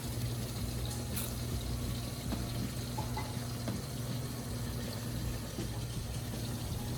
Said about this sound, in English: I'm just adding a little bit of water.